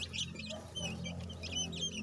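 Chickens cluck on a poultry farm, several birds calling in short bursts close by, with a steady low hum underneath.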